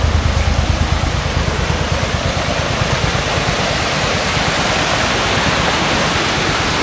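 A West Virginia creek swollen by heavy rain rushes loudly and continuously close by, a dense broadband roar with a low rumbling pulse and no voices.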